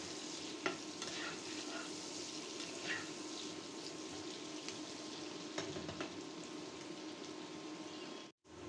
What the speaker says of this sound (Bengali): পেঁয়াজ নেড়ে চেড়ে গোল্ডেন ব্রাউন করে ভেজে নেব।